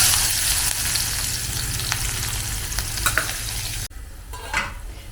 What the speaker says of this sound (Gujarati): તો પહેલાં નાખીશું થોડી રાઈ, થોડું જીરું, થોડી હિંગ, અને હવે નાખી દઈશું આ.